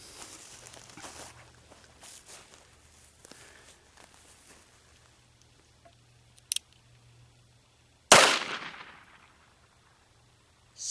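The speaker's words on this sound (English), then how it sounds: "I'm just going to shoot into the embankment because I just want to get some numbers" A .44 Special black powder reload is fired into an embankment outdoors, one loud sharp shot with a long decaying boom after quiet shuffling and faint handling noises.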